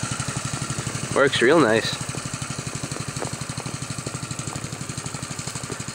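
A homemade generator driven by a Honda engine runs close by with a steady, evenly paced putter that never changes tempo. Someone speaks briefly over it.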